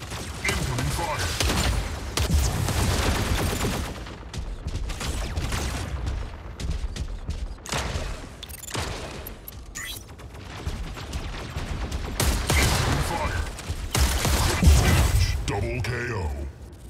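Weapon fire in the Mech Arena video game comes as repeated bursts and blasts across a busy battle mix, with some mechanical clanks between volleys.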